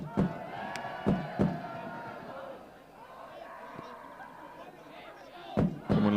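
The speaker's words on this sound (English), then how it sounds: "You hear the crowd. They're getting excited." Crowd at an amateur Primera Andaluza football match between FC Malaga City Senior and Atletico Estacion, murmuring and calling out with a few sharp thuds, under ongoing talk nearby.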